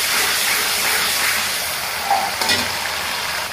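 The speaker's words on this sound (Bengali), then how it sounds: "এটাকে ভালোভাবে ভেজে নেব" Cumin paste sizzling in a hot pan: a steady, moderately faint hiss and crackle with a couple of brief stirring scrapes partway through, no talk.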